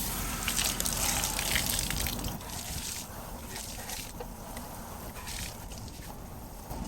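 A garden hose on its shower setting sprays water onto a pool filter, giving a steady, soft hiss of spray with slight shifts in tone as the stream moves across the cartridge, fairly quiet and with no talk.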